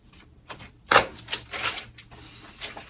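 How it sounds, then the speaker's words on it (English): A few crisp, close snips of precision scissors trimming paper edges, irregularly spaced, with light rustling between cuts. "I'm going to come in with my precision scissors and I'm going to trim off all of those edges"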